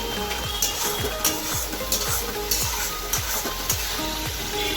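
Ground spices frying in oil with tomato sauce, stirred with a spatula in a home kitchen pan. Steady close sizzle runs under regular scraping strokes about twice a second, with no talking.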